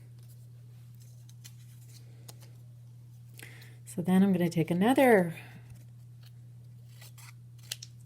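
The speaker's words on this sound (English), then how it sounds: "rectangular piece of paper, cut it, and do the same" Scissors snip through a rectangular piece of paper in small crisp cuts while a person speaks nearby over a low steady hum.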